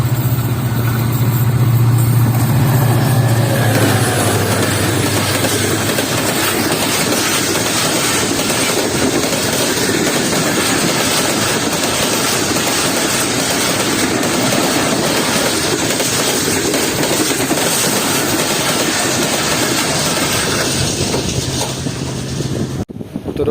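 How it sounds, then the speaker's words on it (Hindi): The Allama Iqbal Express passenger train rolls in at Dabheji, a loud, sustained rumble and clatter of engine and wagons passing close by, steady throughout before cutting off abruptly at the end. "तो दोस्तों ये आ रही है आइन अप अल्लामा इकबाल एक्सप्रेस"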